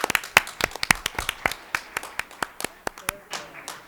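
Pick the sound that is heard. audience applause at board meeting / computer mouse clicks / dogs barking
audience applause at board meeting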